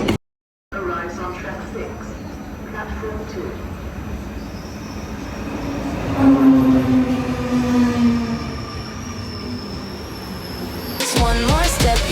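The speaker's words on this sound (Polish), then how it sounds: "Pociąg przyspieszony pociąg. Jedzie." A fast passenger train rolls through a station, a steady loud rumble of wheels and carriages with a rising surge and squeal midway, heard alone before a brief clatter at the end.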